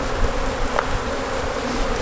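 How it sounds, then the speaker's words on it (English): Honey bees swarm around an open hive box, a dense, loud, steady buzzing hum filling the air close by with no voices. "Wow, these bees are really healthy."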